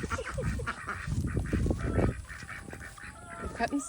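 Farm ducks and geese honk and quack nearby in a busy gaggle, with overlapping repeated calls in quick bursts that rise and fall over a few seconds.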